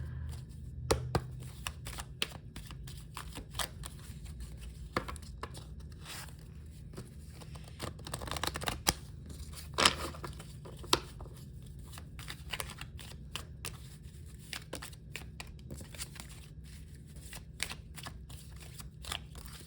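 Playing cards are shuffled and drawn during a card-reading session, giving a steady run of soft, close papery flicks and snaps over a low background hum, with no talking.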